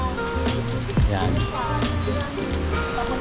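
Heavy rain falls steadily around a glass bridge in Sapa, Vietnam, a constant wash of patter and drops heard close by, with people talking over it throughout.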